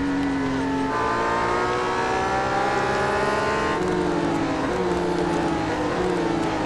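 A McLaren race car engine in Real Racing 3 drones steadily and loudly, its pitch climbing and shifting through gear changes as the car accelerates.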